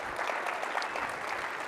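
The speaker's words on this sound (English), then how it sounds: "can we have a round of applause, please, right here?" A round of applause from a seated audience at a car dealership industry conference, steady and fairly full clapping sustained throughout without speech.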